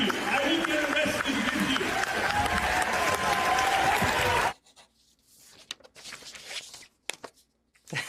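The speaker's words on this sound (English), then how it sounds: "And the crowd goes wild." A crowd claps and cheers in a dense, loud burst of applause that cuts off abruptly halfway through, followed by quieter scattered noises and speech.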